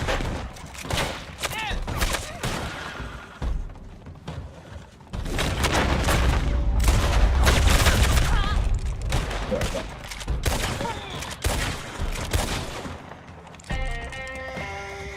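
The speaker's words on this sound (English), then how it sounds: "Sounds like a bomb." Explosion and heavy gunfire in Red Dead Online: a sustained, loud barrage of booming blasts and rapid shots fills the clip, peaking in the middle, with a voice talking between the bursts.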